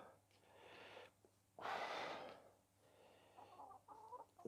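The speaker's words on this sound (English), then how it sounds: "I've got to compete with the chickens as well" Chickens cluck and murmur softly nearby in a garden, scattered short calls mixed with rustling and a loud breathy scuff, all fairly faint.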